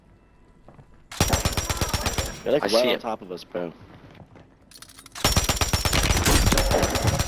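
Rapid automatic gunfire from Warzone 3 (MW3) rattles out in two long, loud bursts, with someone talking in the quieter gap between them.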